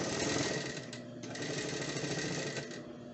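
A sewing machine runs a straight stitch along the edge of fabric for a child's romper, a steady, close, fast mechanical whirr that continues unbroken throughout.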